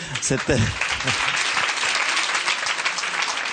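A studio audience bursts into dense, sustained applause, loud and close, with a brief voice at the start.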